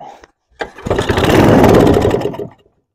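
A go-kart engine fed gas straight into the carburetor catches after a brief crank and roars loudly for about two seconds before cutting out, close by.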